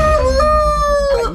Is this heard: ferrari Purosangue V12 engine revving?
no